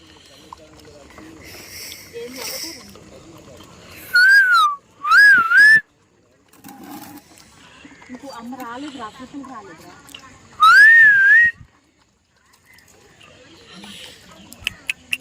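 A person gives three loud, wavering whistles, two in quick succession and a third a few seconds later, with talking and quieter background sounds in between.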